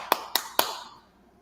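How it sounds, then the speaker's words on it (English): Three sharp claps a quarter second apart from a played recording of a religious gathering, crisp and fairly close, fading into a short reverberant tail. "they had clapping in the background"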